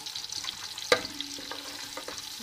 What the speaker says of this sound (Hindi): ये घी गर्म हो गया, अब इसमें ये हम मसाला डाल देंगे